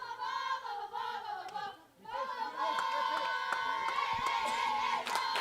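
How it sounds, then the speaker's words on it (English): A high school softball crowd at an OHSAA tournament game between Springfield and Defiance cheers and chants, with rhythmic sung voices, claps and shouts, briefly dipping before picking back up. "you can hear the difference between softball and baseball. A lot of cheers, a lot of chants."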